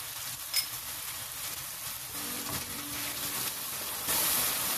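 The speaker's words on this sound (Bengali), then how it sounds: "এখন সামান্য আমি একটু ভেজে নেব মশলাগুলো, বাটা মশলাগুলো।" Onion paste, garlic paste and ground spices fry in oil in a pot with a low, steady sizzle and soft hiss, fairly quiet and unbroken.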